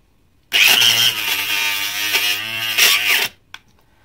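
A Razor Booster electric blade sharpener switches on and runs with a loud, steady, high-pitched motor whine for about three seconds, then cuts off abruptly, leaving one small click.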